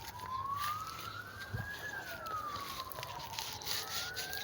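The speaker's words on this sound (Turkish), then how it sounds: "İtfaiyeler yine geliyor." A fire engine siren wails in long rising and falling sweeps as trucks arrive at a wildfire near Lara, Örnekköy, sounding fairly distant over steady outdoor background noise.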